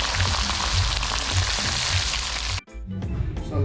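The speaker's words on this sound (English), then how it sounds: "So we got the fried fish going here, the fried snapper." Snapper fish fries in hot oil in a backyard kitchen, a dense, steady sizzle and crackle heard up close, ending in a sudden brief break followed by renewed sizzling.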